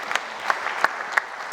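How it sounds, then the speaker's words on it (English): A conference audience applauds steadily in a dense, even wash of clapping, with a few sharper individual claps standing out near the front over about a second and a half. "oh, you can clap, that's good."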